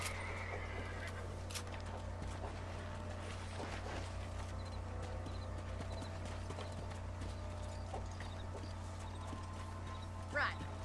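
A horse in the video game Red Dead Redemption clops its hooves in a steady rhythm and whinnies briefly near the end, heard under a constant low ambient hum with faint speech in the background.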